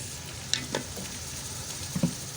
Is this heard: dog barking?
no